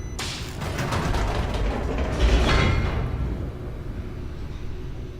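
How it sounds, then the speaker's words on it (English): An elevator descends in The Stanley Parable, a steady mechanical rumble with a low hum and faint creaks that swells slightly midway, then eases off. "let's hit this elevator over here"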